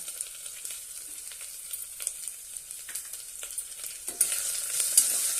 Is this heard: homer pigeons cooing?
no